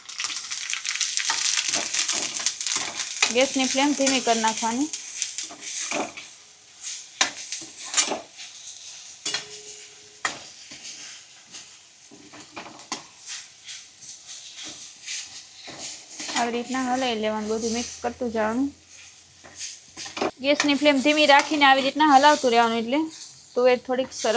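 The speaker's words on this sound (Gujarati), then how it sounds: "એમાં થોડી આપણે હિંગ નાખી હિંગ નાખી દઈએ હવે એમાં કશું નાખી તુવેર આપણે નાખી દેવાની આમાં" Green pigeon peas with asafoetida sizzle and get stirred in a pan, a soft frying hiss with scraping and clinks. Someone talks over the cooking at intervals.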